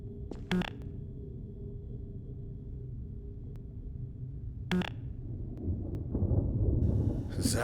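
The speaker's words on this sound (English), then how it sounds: "That must be the storm." A thunderstorm rumbles in the Half-Life 2 mod Dark Interval, low continuous thunder with a few sharp distant cracks, building into heavier rumbling at the end.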